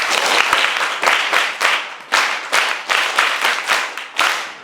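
Pupils in a classroom clap in short rhythmic bursts, a group of hands beating together close by, repeated in quick pulses with no talking.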